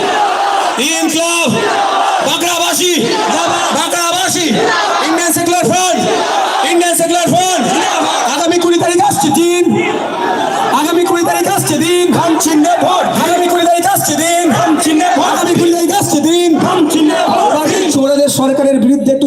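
A large crowd at a political rally in Bankra chants slogans in loud, rhythmic unison, voices swelling and falling together in a steady beat that fills the whole stretch.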